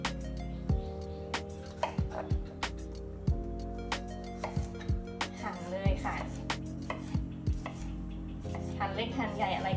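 Rapid knife chopping of tomatoes on a cutting board, a steady run of sharp close thuds with faint background hum and no talking.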